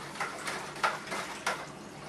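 Sugar is stirred into muscadine wine in a container, with a few soft, scraping, knocking strokes spaced apart under a faint, quiet background.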